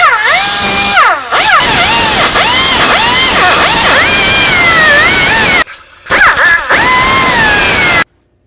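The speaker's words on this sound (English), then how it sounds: "The way I'm going to do it is with this cutting wheel right here" A loud, shrieking cutting wheel grinds through metal rivets on the rear shock mounting plate of a 1992-99 GMC K1500, its pitch rising and falling as it bites, pausing briefly before resuming and stopping abruptly.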